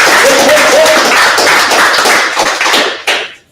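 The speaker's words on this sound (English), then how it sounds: "I think everyone in this room would agree that deserves a round of applause." A room of people at a boxing press conference claps, loud and close, a dense burst of applause with a faint voice early that tapers off near the end.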